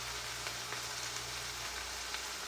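Spinach and moong dal mixture roasting in a pan over a low flame, a steady soft sizzle with faint crackles throughout, close and even, no voices.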